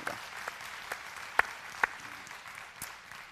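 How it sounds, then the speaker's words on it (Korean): A church congregation claps sparsely and quietly during a Sunday service, with a few distinct, separate hand claps popping out over a soft background. "우리 박수로 함께 격려하겠습니다"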